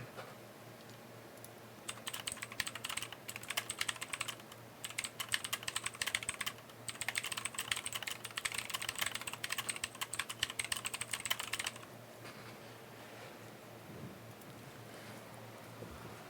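Typing on a laptop keyboard during a repair: bursts of rapid, close keystroke clatter in several runs, separated by brief pauses over a steady low background hum, with no talking.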